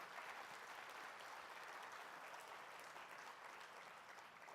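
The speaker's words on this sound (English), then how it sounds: "So a round of applause, all the volunteers in our Executive Committee" Applause from a conference opening ceremony audience for volunteers and the Executive Committee, a steady, fairly faint wash of many clapping hands lasting throughout with no one speaking over it.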